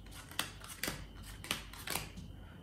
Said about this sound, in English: Just deal down a few cards.